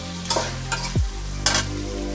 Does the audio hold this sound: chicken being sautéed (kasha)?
yes